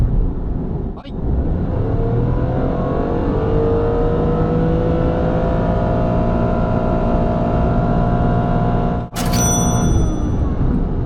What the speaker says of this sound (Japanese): 70キロから100キロの加速タイムを計測します。